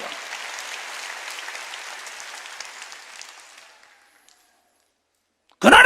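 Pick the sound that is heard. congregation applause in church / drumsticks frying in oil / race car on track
congregation applause in church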